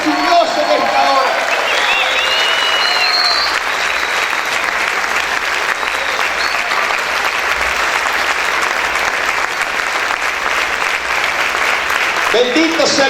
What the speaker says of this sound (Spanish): A ver, aplaude fuerte a su Dios en esta hora.